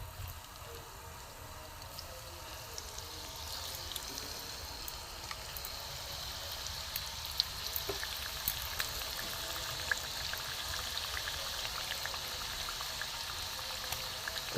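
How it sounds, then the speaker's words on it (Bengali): Aparajita pitha frying in oil in a pan produces a steady, fairly faint hiss of bubbling oil that runs unbroken and even throughout, with a few tiny crackles and no talking. "আমার অপরাজিতা পিঠেগুলো ভাজা হচ্ছে, একটু লাল করে ভেজে নেবো।"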